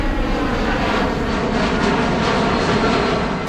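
An airplane sound effect plays, with a loud, steady roar of aircraft engines that stays constant and close for several seconds, without any speech.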